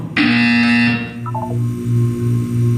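An electronic buzzer from the video game Portal 2 sounds once, a loud sustained harsh tone followed by a short descending chime and a steady pulsing hum, with no talk.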